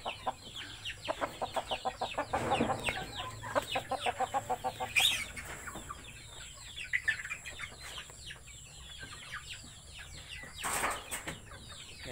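Bangkok crossbreed chicken, a five-month-old bird weighing about 3 kg, gives rapid repeated clucks in short bursts at close range, with some wing flapping in the background.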